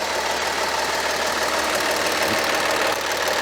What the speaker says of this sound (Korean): 엔진 소리 괜찮습니까?